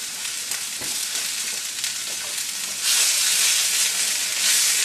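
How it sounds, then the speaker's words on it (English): A whole pack of mushrooms sizzles steadily in a hot pan over just-above-medium heat alongside other vegetables, a dense close frying hiss that grows louder and brighter near the end, with no talking. "And I'd like to dump my mushrooms right on top, the whole pack."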